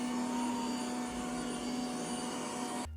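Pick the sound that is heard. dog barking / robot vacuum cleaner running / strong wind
robot vacuum cleaner running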